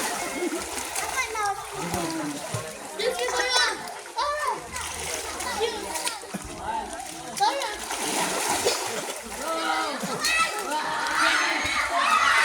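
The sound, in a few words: children splashing while swimming in the sea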